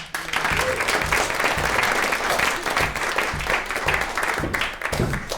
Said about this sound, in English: Bring up with your round of applause, Belinda Sinclair.